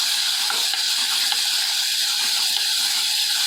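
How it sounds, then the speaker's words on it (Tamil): Two ripe tomatoes sautéing in a hot pan with green chillies, a constant bright sizzling hiss that holds steady and close throughout, with no voices. "அடுத்து 2 பழுத்த தக்காளி போட்டோம். தக்காளி நல்லா வதங்கணும்"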